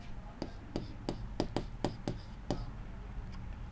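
Chalk or marker taps and strokes on a board in a quick series of sharp ticks, close and fairly quiet, with a faint voice murmuring underneath.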